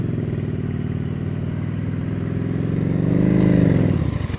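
Motorcycle engine running at a steady, low throttle during slow-speed riding practice, a continuous mid-pitched drone that swells slightly louder near the end with no talk over it.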